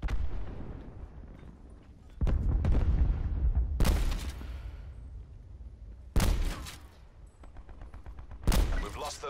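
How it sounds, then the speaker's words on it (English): Cluster grenade detonating in a first-person shooter video game: a string of separate booming blasts spread over several seconds, heard over game background noise and a steady low rumble. "Cluster grenade going out."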